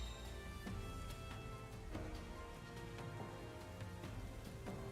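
Steady, faint rain falls in a Pokémon video game battle, a continuous patter of drops on a surface with soft random ticks and no talking.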